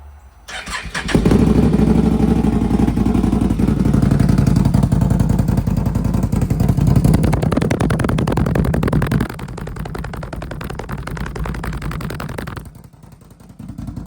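Can-Am Renegade ATV fitted with an RJWC exhaust starting up nearby, roaring loudly with a rough, crackling idle, then dropping to a lower burble before cutting off.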